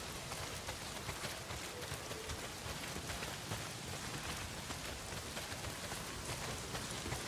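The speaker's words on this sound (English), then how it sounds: "Not if it's pissing down rain." Heavy rain in the Days Gone game falls as a steady, dense hiss of drops spread evenly across the whole stretch, faint in level but constant, with no voices over it.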